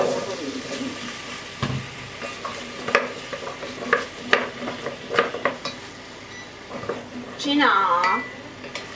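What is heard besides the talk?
stir-frying meat with sliced potatoes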